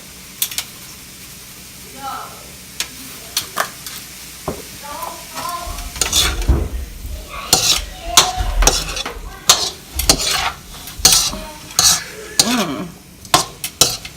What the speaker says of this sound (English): I'm smushing food.